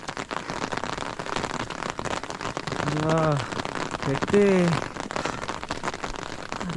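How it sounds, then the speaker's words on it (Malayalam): Heavy rain pours steadily across a high mountain slope, a dense broadband wash throughout, with people talking over it and a voice rising briefly in the middle. "നല്ല മഴ കൂടി. മഴയാണ് ശരിക്കും ഇത്"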